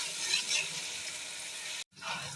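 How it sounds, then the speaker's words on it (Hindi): Onions frying to golden in hot ghee for kadhi pakora, a soft, steady sizzle close by with light stirring, cut by a brief silence before the frying resumes. "घी में गर्म हो गया है। अब इनको गोल्डन फ्राई कर लेना है।"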